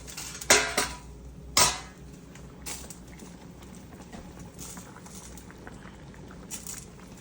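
A ladle scoops pho broth from a pot, giving two sharp metallic clanks close together near the start. Quieter clinks and a soft bubbling background follow, with no voices.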